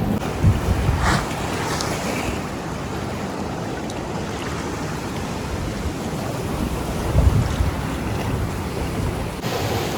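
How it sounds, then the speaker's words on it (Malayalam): Ocean waves surge and wash ashore at Padang Padang beach in Bali, a steady close roar of surf with wind buffeting the microphone and a couple of louder breaking swells. "പക്ഷെ വേവ്സ് നല്ല വേവ്സാണ് വരുന്നത്"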